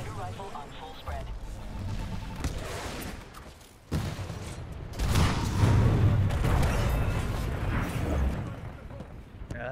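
Splitter rifle firing on full spread during a Titanfall 2 match, dense sustained bursts of energy fire and booms that swell louder halfway through, close and loud with game voices mixed in.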